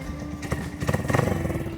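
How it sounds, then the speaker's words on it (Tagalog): An idling motorcycle engine left running to charge an action camera, a low, close, steady putter with irregular bursts and a brief uneven stretch, no talking. "Pinapandar ko yung motor kasi nagcha-charge tayo ng action camera."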